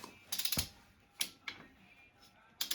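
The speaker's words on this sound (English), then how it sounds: "we're going to tighten the primary gear down to 47 foot-pounds" A ratchet clicks in quick bursts while tightening the primary gear nut on a 1998 Honda CR125R engine, with short separate clusters of sharp metallic clicks up close and pauses between them.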